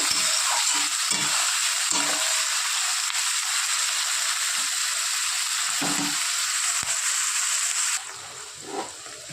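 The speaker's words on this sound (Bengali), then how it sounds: "পেঁয়াজটা একটু হালকা লাল করে ভেজে নেব।" Chopped onions fry in hot oil in a pan for a chicken curry, a loud continuous sizzle with occasional soft stirring knocks, easing down near the end.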